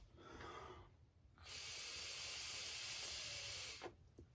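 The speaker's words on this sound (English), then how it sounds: "when you blow into it in this direction, the air should pass freely through the valve" Air is blown by mouth through a hose into a PCV valve from a 2007-2021 Toyota Tundra, giving a steady, close, loud hiss for a couple of seconds, then a few short puffs of breath.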